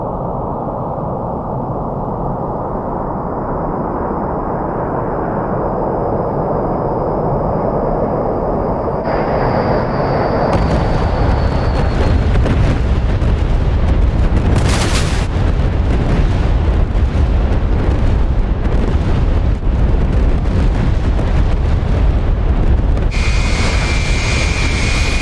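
Heavy, continuous rumbling roar of B-52 bombs exploding across an airfield in a DCS bombing raid, loud and sustained, swelling into a dense barrage of blasts with aircraft engine drone beneath.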